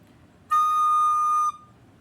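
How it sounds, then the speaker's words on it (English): One shrill, piercing recorder note blasts for about a second, bright and harsh with strong overtones, then stops abruptly, with no talking. "If I automatically give myself a big breath and I blow into it hard"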